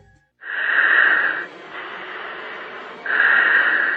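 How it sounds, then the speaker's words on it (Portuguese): Heavy, labored panting of a Brazilian Air Force pilot flying a Tucano turboprop, heard over a radio link: two loud wheezy breaths with a quieter hiss between, close and harsh with no other sound. "A respiração ofegante é de um piloto da FAB, a Força Aérea Brasileira."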